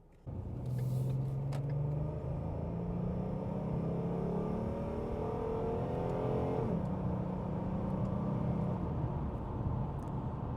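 A 2016 Ford Mustang V6 automatic coupe accelerates on the road in second gear, its engine rumbling up steadily in pitch before an early upshift drops the tone, then pulling on at a moderate distance.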